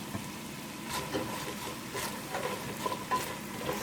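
Bigos, the Polish hunter's stew with whole prunes, being stirred in a pot, a steady soft scraping and gentle sizzle with a few louder strokes, close and alone without talk.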